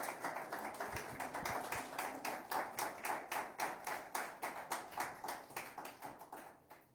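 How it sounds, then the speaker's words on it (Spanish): An audience at a religious freedom forum gives sustained applause, a dense, even patter of many hands clapping that stays steady and slowly fades toward the end. "Vamos a despedirlo con un aplauso por haber estado acá con nosotros."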